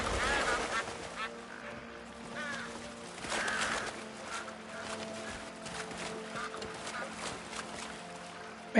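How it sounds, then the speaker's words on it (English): Geese honk in the open-world video game Crimson Desert, several loud cackling calls in bursts over a steady game ambience and a low background hum. "Man, these geese are everywhere."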